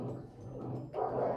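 A dog in the background gives short muffled barks and whimpers across a brief moment, with a louder yelp near the end.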